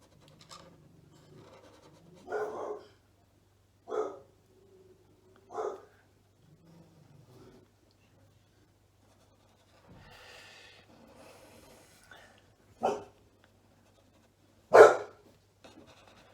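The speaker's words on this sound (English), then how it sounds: "that's my dog barking" A dog barks in scattered, separate bursts, some faint and muffled, others sharper, with quiet pauses in between.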